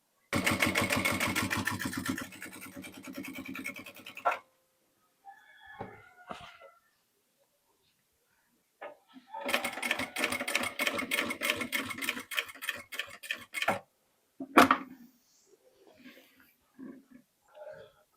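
A sewing machine runs a fast, steady stitch along the edge of a kandura garment, two loud bursts separated by quieter pauses with faint handling noises between.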